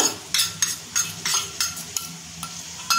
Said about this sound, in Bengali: এটা আমি পেঁয়াজের সঙ্গে আর দুটো কাঁচা লঙ্কা দিয়ে ভালো করে ভেজে নেব।